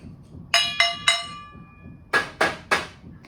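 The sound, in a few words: plastic household item struck with a drumstick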